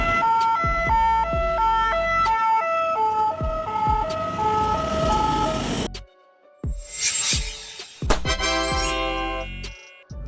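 French ambulance siren of the kind fitted to Renault Master, Peugeot Boxer or Mercedes-Benz Sprinter vans, a loud, steady two-tone wail alternating high and low, then a brief pause and a few clipped electronic yelps.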